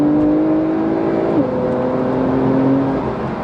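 Porsche 992 Carrera 2S engine accelerating, a steady rising engine note heard from inside the car with a brief gear change partway through, loud and continuous with no talk.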